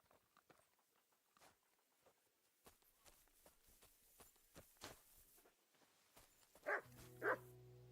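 In Kingdom Come: Deliverance 2, a dog's paws patter and footsteps tap softly, then two sharp, close barks ring out near the end with no talking.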